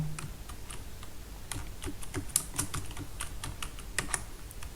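Name being typed on a computer keyboard while entering it into an Excel spreadsheet: a steady run of close, crisp key clicks with irregular spacing, heard alone with no talking.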